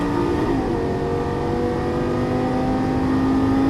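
A Lamborghini Gallardo LP-550 engine accelerates hard along a track straightaway. It is a loud, continuous, close roar whose pitch climbs steadily as the revs build.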